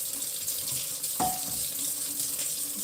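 Water running from a sink faucet where hands are being washed, a steady hiss of flow with a brief splash near the middle, close and alone without talk.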